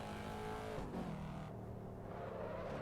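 A C7 Corvette revving on track at the Nordschleife in Assetto Corsa, with a steady engine drone shifting in pitch as it accelerates through the gears, fairly faint and continuous.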